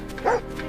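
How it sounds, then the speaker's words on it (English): A single short, sharp dog bark rings out close and loud against a quiet background. "The dog! Please don't bark."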